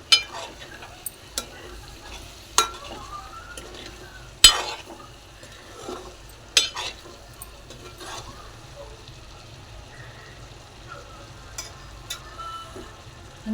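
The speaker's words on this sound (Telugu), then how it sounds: "గుడ్లు అనేటివి ఇవి ఫ్రై చేసినవి విరగకుండా" Fried boiled eggs slowly stirred in a pan for egg curry: a faint background sizzle broken by occasional sharp spoon knocks against the pan every second or two, no talk.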